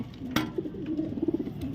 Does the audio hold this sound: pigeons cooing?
yes